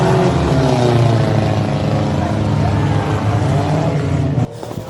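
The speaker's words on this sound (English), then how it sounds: "You can hear the motor's getting real tired after just being beat on." A strained Subaru engine howls at steady high revs during an enduro race at Land of Legends Raceway, a loud close droning tone with harmonics that cuts off abruptly near the end.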